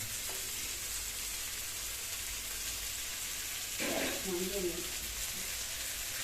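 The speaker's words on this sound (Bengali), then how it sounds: "এবার আমি দিয়ে দেবো আদা জিরে বাটা গরম মশলাও আছে" Ginger-cumin paste and garam masala frying in a pan, a soft steady sizzle with a brief louder burst as something is stirred or added, and a voice speaking faintly partway through.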